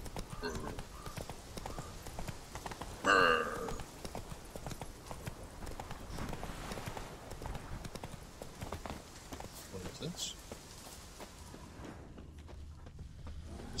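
Roach, the horse in The Witcher 3, walks along with a steady clip-clop of hooves that continues for most of the stretch, mid-distance and moderately loud, with a brief louder thump early on.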